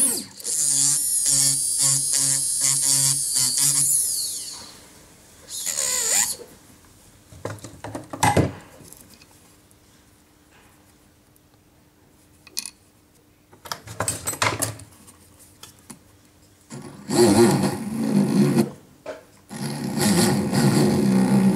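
Rotary tool spinning a large ball burr to widen a drilled hole in a faceted stone pendant, a bright high grinding whine in bursts near the start and end, separated by quieter gaps with faint handling sounds.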